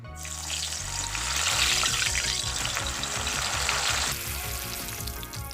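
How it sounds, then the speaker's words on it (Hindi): Sun-dried moong dal fries in hot oil with a loud, steady sizzling hiss that swells after the first second and eases near the end. Soft background music plays underneath. "ये भी मैं मूंग दाल 2 या 3 मिनट तक ही फ्राई कर लूँगी"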